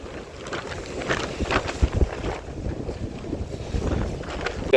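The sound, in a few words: sea waves on a beach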